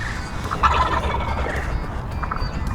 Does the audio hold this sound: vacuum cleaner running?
no